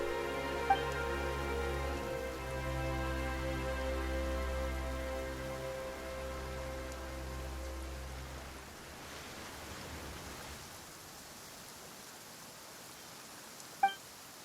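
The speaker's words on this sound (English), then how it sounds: "Why is it raining all of a sudden?" Rain in the video game Genshin Impact comes in as a soft, steady hiss after a sustained tonal drone fades, continuing alone and fairly faint, with a couple of brief sharp ticks near the end.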